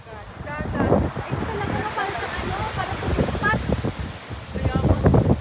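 Sea waves wash and break along the shore below the white cliffs at Seaford, with wind buffeting the microphone and people chatting excitedly over the surf throughout.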